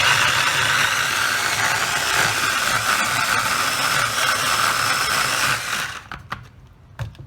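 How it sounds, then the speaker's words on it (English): A food processor on high speed blends a Jamaican jerk marinade with vegetable oil, giving a loud, steady whir for about six seconds before it winds down and stops, followed by a few faint clicks. "just on a high speed, we just want to crush and combine that"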